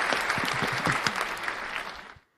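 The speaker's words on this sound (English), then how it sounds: "So let's give that a round of applause. I don't have to clap myself. We got sound effects." Canned applause effect from a crowd, a dense burst of clapping sustained for about two seconds before cutting off abruptly.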